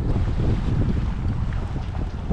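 Steady wind rushing over a sailboat running downwind under a large headsail in about a 10-knot breeze, with continuous low buffeting and faint water wash, loud and close, no talking.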